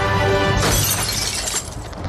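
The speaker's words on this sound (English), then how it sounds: "We're not smashing a 72 Challenger." Car glass shattering in one loud crash beside a 1972 Dodge Challenger, with debris hissing and tinkling for a couple of seconds afterward. No speech.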